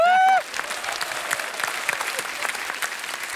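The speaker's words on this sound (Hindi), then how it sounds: "क्या इनके लिए जोरदार तालियां है" Studio audience applause on a comedy show bursts in after a brief musical sting, then carries on as bright, close, continuous clapping.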